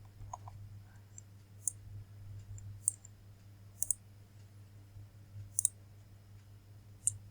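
Sparse mouse clicks, single and in quick pairs, at an irregular pace while working in the Microsoft Azure portal, close and fairly crisp over a steady low hum, with no talking.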